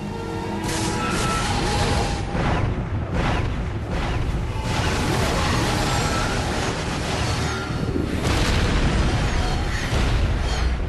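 Space battle weapons fire and explosions from Stargate Atlantis, a continuous dense barrage of booming blasts and bursts lasting throughout, loud and close with no speech over it.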